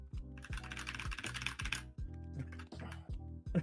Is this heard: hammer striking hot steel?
no